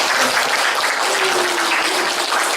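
An audience at a cultural forum applauds a soprano musical singer, a dense, even wash of clapping that holds steady throughout without any voices.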